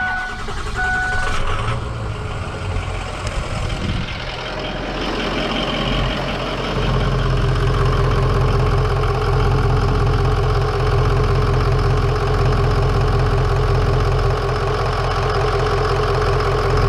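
A Honda Civic engine cranks and catches, then settles into a loud, steady idle with a deep, constant rumble that continues alone for well over ten seconds.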